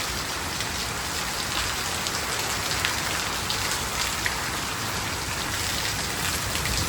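Heavy monsoon downpour on a farm, a dense, steady hiss of rain pouring down without a break for the whole stretch, with no voices.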